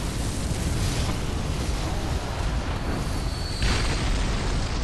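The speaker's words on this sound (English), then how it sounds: "someone dropped a flaming boulder, I think" A flaming boulder dropped by a beastman in the Bloodborne video game makes a dense, continuous roaring rumble that fills the clip at steady loudness, with a brighter surge near the end.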